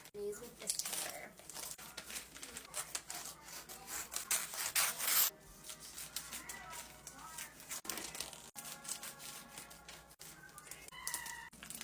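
Paper crinkles and rustles steadily as lunch items for a home daycare are wrapped by hand, with a burst of louder crumpling partway through and soft tearing and rubbing close to the microphone.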